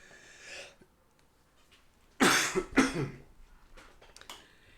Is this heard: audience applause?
no